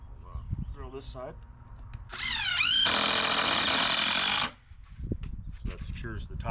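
A power drill spins up with a rising whine, then runs loud and steady for about two seconds while setting up to core-drill a porcelain paver. Someone talks before and after.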